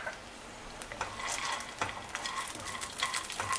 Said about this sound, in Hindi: अब हम ऐड कर रहे हैं अपनी पीनट्स।